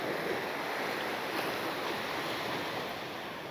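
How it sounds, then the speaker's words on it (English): Ocean waves wash steadily onto an Aruba beach, a continuous close surf roar with a faint rise of a breaking wave, touched by light wind noise and no voices. "So let's take a look at this upcoming wave."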